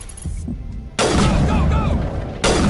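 Grenade blasts in the Mass Effect video game: a loud, dense burst of explosion and gunfire noise kicks in sharply, holds as a heavy rumbling roar, then a second burst hits near the end over lower battle noise.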